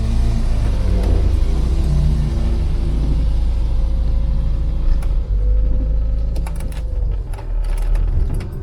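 An Austin Allegro with a swapped 1275cc engine idles and runs after starting, giving a loud, continuous low rumble with some creaks and mechanical rattles, close by and with no talk.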